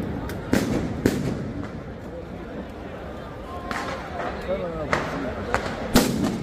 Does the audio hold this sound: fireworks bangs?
yes